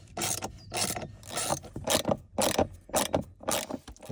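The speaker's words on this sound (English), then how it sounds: "I'm gonna torque them back at 8 Newton meters" A ratchet-type torque wrench tightens dashboard screws inside a BMW X5 F15 during a blower replacement, giving about eight crisp clicking bursts in a steady back-and-forth rhythm, close and fairly quiet, with no talking.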